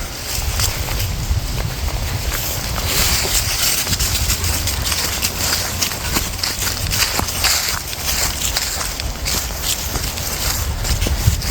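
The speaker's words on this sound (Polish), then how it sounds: "Te odgłosy kroków na liściach." Continuous rustling and crackling of steps through dry leaves, close and steady, a dense scuffing texture without talking.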